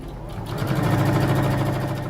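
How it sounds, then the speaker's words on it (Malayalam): A sewing machine stitches lace onto a garment neckline, a steady close mechanical whirr with a fast rhythmic needle pulse that holds evenly throughout. "അരികൊക്കെ ഒപ്പാക്കി വെച്ച് സ്റ്റിച്ച് ചെയ്തെടുക്കുക"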